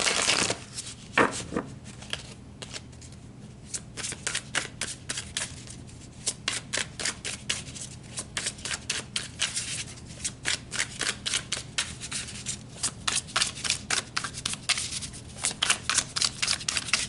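Tarot cards shuffled by hand in a steady run of crisp riffling bursts, quieter at first and growing denser and louder toward the end, with no talking.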